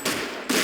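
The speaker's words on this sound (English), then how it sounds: "These guns do not fuck around." Sustained, dense gunfire in the video game Vampire: the Masquerade, loud and close, in two rapid bursts with a short dip between them.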